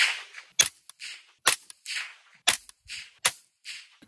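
Sharp, loud 6.5 Grendel rifle shots crack at a close range, a handful of separate reports spaced about a second apart, each with a short ringing echo tail.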